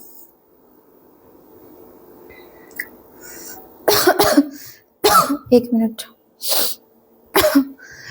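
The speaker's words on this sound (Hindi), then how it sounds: "तो इस तरीके से काफी खांसी हो रही है" A woman coughs in several harsh, broad bursts, close by, after a short spoken remark and a quiet stretch.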